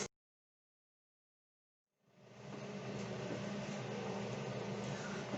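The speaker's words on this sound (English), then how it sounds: "I'm going to put my blender on low and we're going to get this blended up." A countertop blender set to low whirs steadily through a raw zucchini-noodle sauce after about two seconds of silence, a loud, continuous broadband motor drone holding constant to the end.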